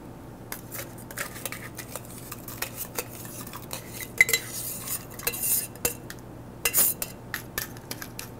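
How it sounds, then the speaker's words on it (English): A bourbon cocktail being stirred in a glass, with crisp clinks of a bar spoon against glass and rattling crushed ice, close and intermittent, growing busier toward the end, with no voices. "Give it a stir. And then I'm going to add more crushed ice."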